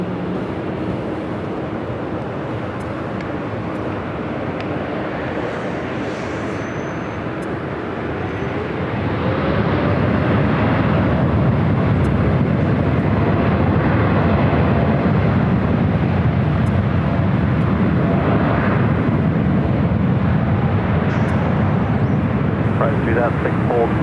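A Japan Airlines Boeing 787-9 Dreamliner takes off at LAX, its engine roar building partway through and then holding loud and steady, with a voice talking over it.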